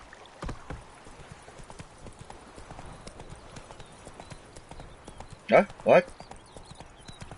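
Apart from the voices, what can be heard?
horse Roach galloping in video game Witcher 3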